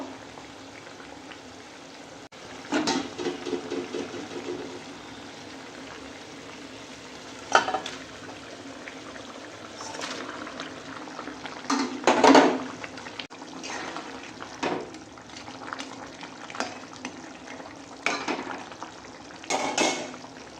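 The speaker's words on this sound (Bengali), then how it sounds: "এবার ঝোলটা ফুটে গেছে এবার মাছগুলো দিয়ে দেবো" Pieces of Bhola fish go into a pot of boiling curry broth for an oily chili fish curry: a soft, low simmering bubble with scattered splashes and sizzling bursts every few seconds, no voices.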